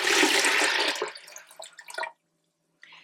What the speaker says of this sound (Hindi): और साथ में ही अब आप डाल देंगे इसमें पानी